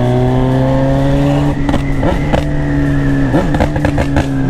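A Honda CB1000 motorcycle engine idles steadily up close, then gets several sharp throttle blips that rev up and drop back, loud and alone without talk.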